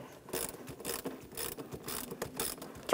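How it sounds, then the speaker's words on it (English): A ratchet with an 8mm socket loosens hose clamps on the mass airflow sensor tube of a 1999-2006 Chevrolet Silverado 1500 4.3L V6, a close series of rhythmic clicking bursts repeating steadily for several seconds. "Now we can move along to loosening our two clamps that hold this in place"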